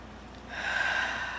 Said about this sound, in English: let's take a couple of nice deep breaths in and out